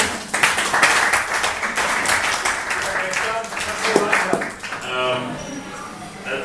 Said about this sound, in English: we'll do some special applause for those that couldn't make it tonight